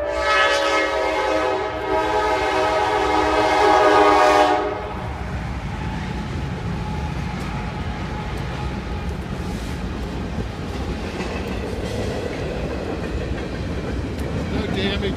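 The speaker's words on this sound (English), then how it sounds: "lots of train noise" A train passes close by with a long, loud horn blast, then a steady rumble and rattle of rail cars continuing alone.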